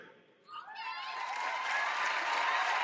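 Family members in the stands cheer and applaud at an Air Force training squadron graduation ceremony, a swelling wash of clapping and shouts that rises quickly and holds steady, fairly loud across a large space.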